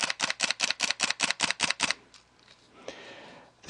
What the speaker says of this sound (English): this is the kind of shutter that gives you the familiar clicking sound that we're all used to